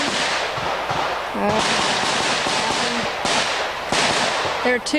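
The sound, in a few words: gunshots from a professional shooter's pistol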